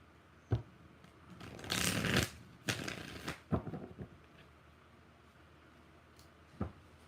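Soft riffling and flicking of tarot cards, a few quick shuffles with sharp taps between them, close and quiet against a faint background hiss.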